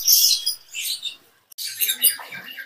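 Caged canaries, both dark and bright-plumaged birds, give bright high chirps and twittering in two bursts separated by a brief near-silent gap, close and fairly loud with no talk.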